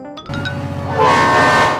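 A train rumbles past nearby with a steady mechanical roar and a tonal hum, loud and close for a couple of seconds.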